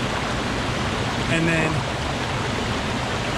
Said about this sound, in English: wonderful little babbling creek